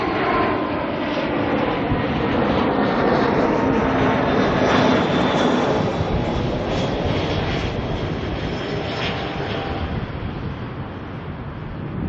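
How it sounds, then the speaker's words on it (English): Jetstar flight JQ296 from Queenstown arrives at Auckland Airport, a loud, close, continuous jet roar with a broad rushing hiss and faint whining tones, easing slightly toward the end. "Got a Jetstar coming on in from Queenstown"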